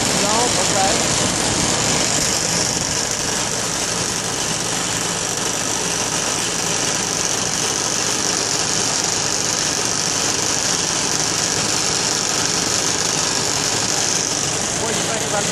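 A tractor engine runs steadily during a ride, giving a constant close rumble with high-pitched mechanical whine and slight vibration that does not let up, and no clear talk rises over it.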